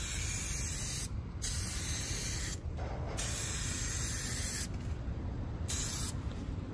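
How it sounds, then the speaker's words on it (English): Aerosol clear coat sprays onto a car headlight in several steady hissing passes, each lasting about a second or two with short gaps between them. "With 2 coats of clear coat sprayed 10 minutes from one another"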